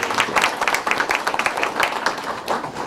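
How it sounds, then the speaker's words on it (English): Audience applause at an affordable housing forum: dense, steady clapping from a crowd throughout, fairly loud and close, with no speech over it. "Let's please give them a round of applause for all the great work that they do."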